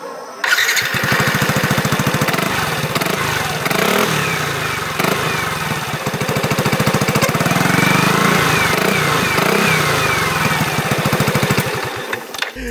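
Yamaha NMAX scooter fitted with an Arrow racing exhaust revs hard and steadily for about twelve seconds, a loud, deep, throbbing engine note rising and falling close by, with no talk over it.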